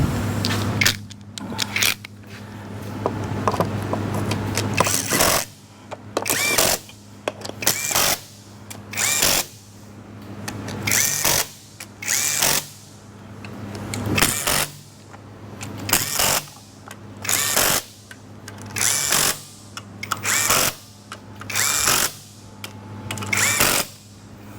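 A power tool repeatedly torques down parts on a KIA engine short block, with rhythmic whirring bursts of a second or so separated by short pauses, close and loud in a workshop.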